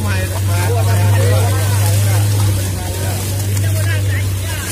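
A steady low boat engine drone runs throughout, like a motor idling nearby, with people talking and laughing over it aboard a boat heading to a white-sand beach.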